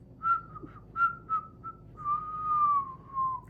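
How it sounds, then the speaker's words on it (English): A person whistles alone, a series of short, clear high notes followed by a longer sustained, gently falling tone, close and moderately loud. "I can whistle."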